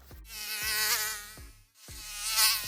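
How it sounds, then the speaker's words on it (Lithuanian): A close, steady high-pitched whine of mosquitoes buzzing, wavering slightly in pitch, with a few soft thumps breaking through. "Uodų baisiai daug"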